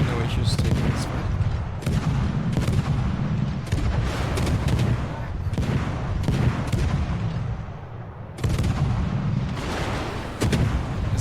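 Destroyer guns in a naval battle game fire repeatedly in loud, booming volleys, each blast followed by a rumbling tail, over a continuous battle din.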